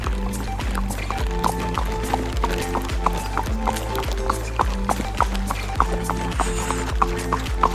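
Steady clip-clop of horse hooves at a walking pace in Matheran, a regular rhythm of hollow knocks over a continuous low rumble.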